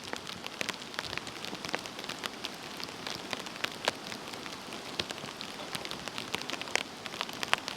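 Steady rain drums on a tent at a wet campsite, dense and continuous with sharp close droplet ticks scattered throughout, no voices.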